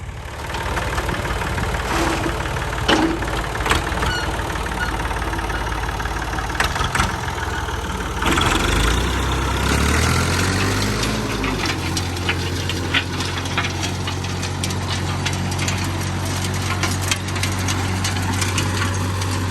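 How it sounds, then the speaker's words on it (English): A tractor engine idling nearby in a garden plot: a steady mechanical rumble with knocking texture, deepening and growing heavier about halfway through as the machine draws closer, no talking. "I've got the tractor coming in behind me"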